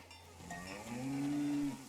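A cow in a video game gives a single drawn-out moo that rises and swells toward the end, heard clearly and alone.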